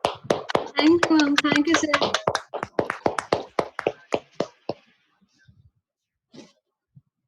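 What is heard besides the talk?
clapping for Suvina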